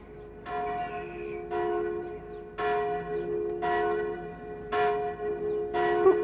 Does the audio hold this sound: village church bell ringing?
yes